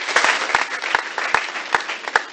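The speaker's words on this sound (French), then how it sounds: "On va applaudir fortement une fois de plus" A conference audience at an international women's rights event applauds, dense clapping with a few sharp louder claps standing out, steady and close for the whole stretch.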